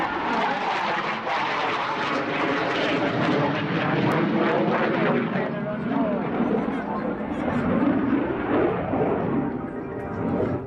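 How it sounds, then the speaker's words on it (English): A Tornado military jet flies past, its broad engine roar steady and loud throughout with no breaks, and a voice talks over the noise. "In which we can appreciate the high roll rate of the tornado."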